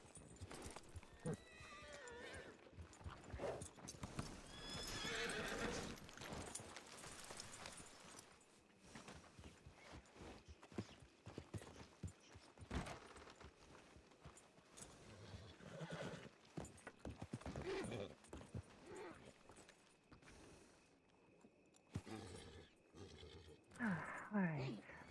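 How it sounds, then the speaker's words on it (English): Horses in a Red Dead Redemption 2 roleplay game whinny and neigh repeatedly amid clip-clopping hooves, with people talking intermittently over the animal sounds. "There's a lot of horses."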